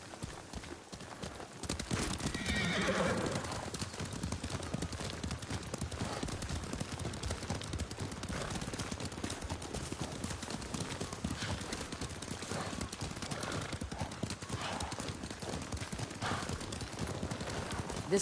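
Horses trot with a brisk, continuous clip-clop of hooves in the Ghost of Tsushima video game, with an occasional whinny, heard close and steady under game dialogue and ambient sound.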